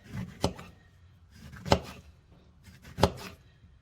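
A knife cuts through fresh lemons on a cutting board in three crisp, close chops spaced about a second and a quarter apart, with quiet handling noise in between.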